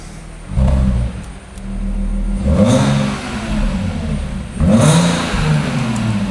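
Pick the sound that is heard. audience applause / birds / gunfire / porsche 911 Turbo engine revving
porsche 911 Turbo engine revving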